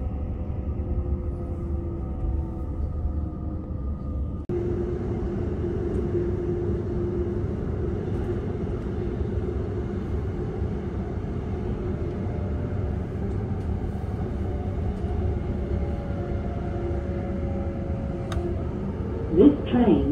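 Inside a passenger train carriage, a steady low rumble and hum runs throughout, shifting in tone partway through, with a few faint clicks and rattles near the end.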